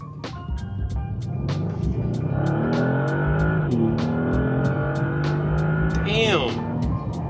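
A 2025 Bentley GT Speed, no longer a twelve-cylinder, accelerating hard with its engine note climbing steadily in pitch through the gears, loud and close from inside the cabin, with a steady ticking beneath.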